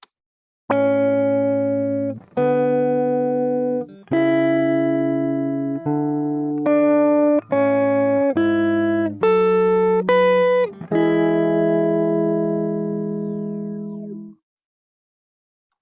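A series of synth bass notes, each opening with a swept, vowel-like filter glide, played loudly in sustained chunks before cutting to silence.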